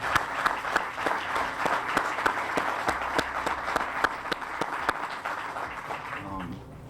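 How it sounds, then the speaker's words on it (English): An audience at an event gives a round of applause, with steady, dense clapping and sharp individual claps standing out. It stays at a moderate level throughout and thins slightly near the end. "let's give them a round of applause"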